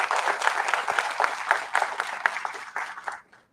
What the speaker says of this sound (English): It will be good idea to clap for this organizing team.